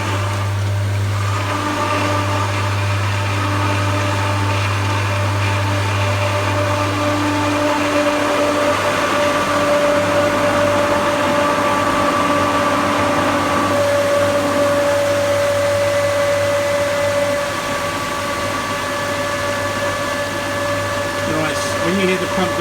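A newly installed pool pump running steadily after being switched on, a loud constant motor hum and drone with a low tonal buzz that settles partway through, with a voice speaking briefly.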